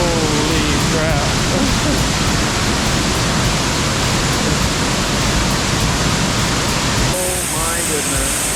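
A powerful waterfall at Cueva del Esplendor near Jardín, Colombia, roars as a loud, dense, continuous rush at close range, with a person's voice faintly under it.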